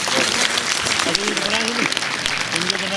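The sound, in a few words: audience applause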